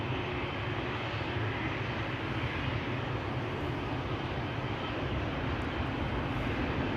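Narrow-body jets, an Embraer and a Boeing 737, rumble at Schiphol Airport as a continuous, even engine drone at moderate distance, alone without voices.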